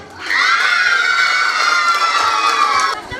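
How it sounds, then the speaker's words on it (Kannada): A school audience at a cluster-level talent festival prize announcement cheers loudly for the winners, a sustained burst of children's shouting and crowd noise lasting about three seconds before fading. "ಚಪ್ಪಾಳೆ."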